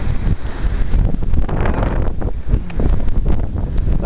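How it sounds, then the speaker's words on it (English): Loud wind buffets the microphone in a berry garden in western New York, a continuous rough roar with rustling gusts and no talking. "Like I said, it's windy."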